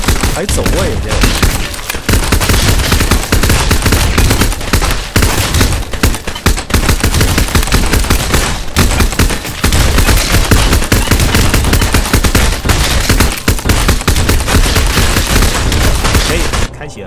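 Gunfire rattles almost nonstop in a zombie resort survival video game, with loud, dense bursts of rapid shots and booms packed together, near and overpowering.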